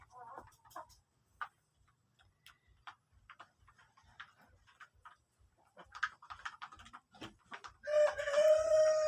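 Black Australorp and Rhode Island Red breeder chickens in a farm coop, quiet scattered clucks and soft ticking pecks at first, growing busier before a loud rooster crow rings out near the end.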